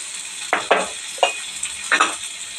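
Frying in a pan, with a soft steady sizzle broken by several short scraping stirs at irregular intervals.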